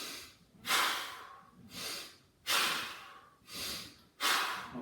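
Close, rhythmic exercise breathing during a seated dual-cable row on a 45-degree bench: about five strong, breathy exhales alternating with quieter inhales at a steady pace, with no talking.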